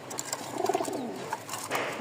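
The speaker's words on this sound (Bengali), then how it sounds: "এই দেখেন সব কবুতরই মার্শাল্লাহ খাওয়ার জন্য একটা পাগল হয়ে আছে" Pigeons in a coop of three pairs coo softly nearby, with a short run of low, throaty coos and a few faint chirps among other bird sounds.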